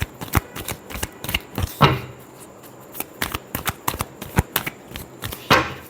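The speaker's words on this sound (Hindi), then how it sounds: "Last shuffle." Tarot cards being shuffled by hand, a run of crisp riffling slaps and flutters in an irregular rhythm, close and fairly quiet, with no talking.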